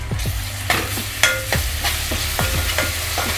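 A ginger, garlic, green chilli and coriander paste sautéing with onions for hotel-style pav bhaji, a steady close sizzle broken by repeated sharp spoon-scraping strokes against the pan, no voices.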